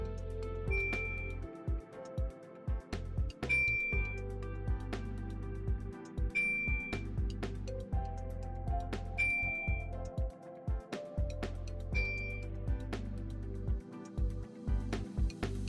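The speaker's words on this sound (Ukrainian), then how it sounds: "Потрібно порахувати, скільки разів задзвонить дзвоник" A small bell rings out in clear metallic pings, five distinct strikes spaced a couple of seconds apart over a steady low background hum, with no talking.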